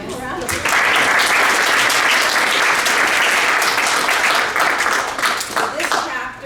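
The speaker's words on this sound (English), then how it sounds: "So give them a round of applause." Audience at a guild induction ceremony applauds a performing chapter, a dense, loud wash of many hands clapping that swells quickly, holds steadily for several seconds, then begins to thin near the end.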